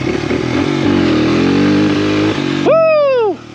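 A motorcycle engine roars at high revs during a power wheelie, held loud and near, then a sharp upward rev sweeps and falls away before cutting off.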